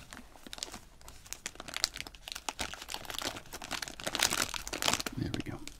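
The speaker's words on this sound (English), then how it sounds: "I'm going to cut this strip of plastic off." Close, crisp crinkling and snipping of a plastic strip being cut from a nacho-flavored Cheetos snack bag, with irregular rustles that grow denser and louder toward the end.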